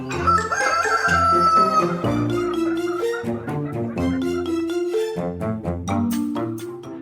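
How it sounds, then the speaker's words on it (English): Roosters crow loudly and chickens cluck nearby on a farm in Bali. Several birds call over each other in a dense, continuous din, with long drawn-out crows and shorter clucks. "Oh, Mother and Father Chicken"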